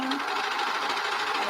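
A sewing machine runs steadily while stitching baby leggings, a close continuous mechanical whir, with a voice talking over it.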